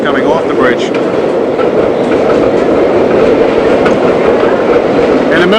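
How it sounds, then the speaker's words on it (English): A 1970s–80s New York subway local train heads eastbound for Jamaica off the Williamsburg Bridge, a loud, steady rumble with clattering wheels and faint squeals passing close by. "we see an eastbound local train for Jamaica that's coming off the bridge"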